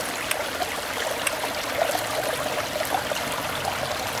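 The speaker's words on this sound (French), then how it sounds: "Il suffit de mettre le pré-filtre dans l'eau et de pomper, tout simplement." Water trickling from the outlet of a hand-pumped camping water filter with a silver-impregnated element, a steady close-up dribble and splash continuing throughout with no talk.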